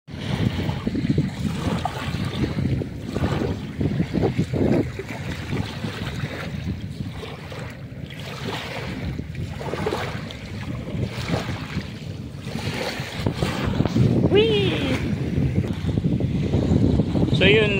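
Steady wind blowing across the open shore of Dolomite Beach on the Manila Baywalk, a broad continuous rush with buffeting gusts on the microphone, growing stronger near the end, and some indistinct talk mixed in.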